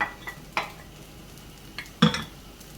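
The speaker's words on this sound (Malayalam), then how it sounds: "നല്ലതുപോലെ ഇളക്കി മിക്സ് ചെയ്യാം." A spoon scrapes and knocks through egg fried rice in a pan: a few sharp metallic taps and scrapes spaced irregularly over a soft background sizzle, close and unaccompanied by talk.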